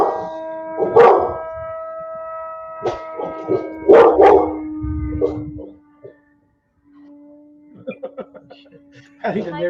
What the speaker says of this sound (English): I think the neighbor's dogs are barking.